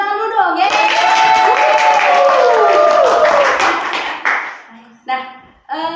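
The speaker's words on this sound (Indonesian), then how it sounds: "Tepuk tangan dulu dong, ya." An audience at an academic talk claps through a burst of applause of several seconds, with a voice speaking over the clapping before the room quiets.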